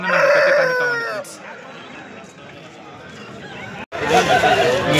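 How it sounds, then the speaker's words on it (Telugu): A Kakinada rooster crows at a Sunday poultry market in Peeleru, a loud call at the start, followed by a quieter stretch and then busy crowd chatter. "మీరు చూస్తున్న ఈ కాకినాడ పుంజు"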